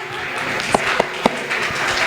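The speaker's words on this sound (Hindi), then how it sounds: "जोरदार तालियों से स्वागत करेंगे बच्चे का।" Audience at an evening patriotic event in Dhar, Madhya Pradesh, welcoming a child dancer with steady, close clapping from many hands, a few sharper claps standing out.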